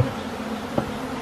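Honey bees buzzing inside a dishwasher, a steady close droning hum filling the space with one brief louder knock partway through and no voices.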